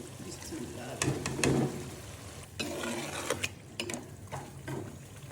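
Masala roasts in a pan, a soft sizzle under a scraping spatula and several sharp clacks against the metal, with quiet stretches between the stirring bursts.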